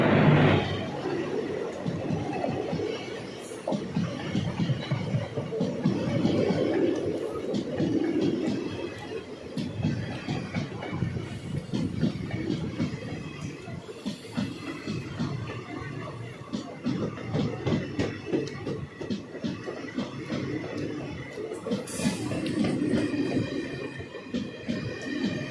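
Train on the opposite track passing alongside a moving passenger train on a journey toward Rameswaram, a continuous rumbling clatter of wheels and carriages with rattling, under intermittent chatter from people on board.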